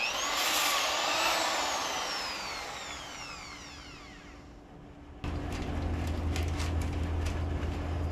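A high-pitched power drill honing an engine cylinder whines loudly and slowly winds down, then a second harsher drilling grind starts abruptly and runs steadily to the end.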